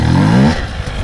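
A dirt bike engine revs loudly and up close as the clutch is released for a slow wheelie, rising briefly and then dropping off in a rough burst about a second long.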